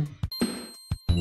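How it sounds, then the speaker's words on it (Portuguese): Bell tones from the Super Mario World game soundtrack, rendered as sustained high chime-like notes ringing over short bursts of music across a brief stretch. "E esses sinos, ó."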